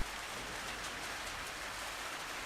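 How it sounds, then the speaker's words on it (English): Steady rain in Portugal, driven sideways by wind, hisses as a dense, even wash of drops close by, holding at a constant level throughout with no voices. "It's raining sideways in Portugal."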